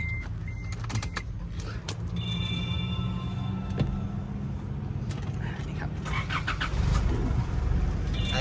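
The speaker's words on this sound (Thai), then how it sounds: "แล้วก็เดี๋ยวจะมาฟังเสียงเครื่องยนต์ว่าเป็นอย่างไรกันบ้างนะครับ" The engine of a 2012 Isuzu MU-7 3.0 VGS Turbo automatic turns over nearby and settles into a low, steady rumble, with scattered clicks and a brief whirring motor.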